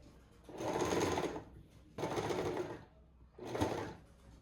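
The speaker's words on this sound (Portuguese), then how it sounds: "E aí a gente vai fazendo o processo normal da costura." Sewing machine stitching lace onto a blouse in three short, loud runs of rapid mechanical whirring, each about a second long, separated by brief pauses.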